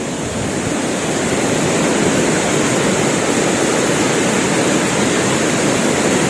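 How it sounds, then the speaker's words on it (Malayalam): A waterfall roars in a steady, loud, even wash of rushing water that fills the scene with no pauses and no voices. "ഇതാണോ വെള്ളച്ചാട്ടോ?"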